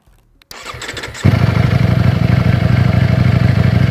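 A Ducati Streetfighter V4 S motorcycle engine cranks and fires up, settling into a loud, deep, throbbing idle close by.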